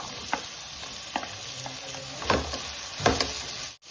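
Sliced onions cook in a hot pan for a chicken salad, a steady close sizzle broken by several sharp scrapes and knocks of a spoon stirring against the pan.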